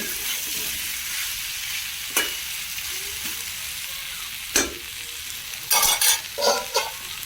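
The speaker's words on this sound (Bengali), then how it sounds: "আর আমি কন্টিনিউ এটা নাড়াচাড়া করতে থাকবো আর ঢাকা দিতে থাকবো" Vegetable curry sizzles steadily in a pan while a spoon stirs and scrapes it, with several sharp clanks of utensil against metal spaced through the clip and a cluster of louder knocks near the end.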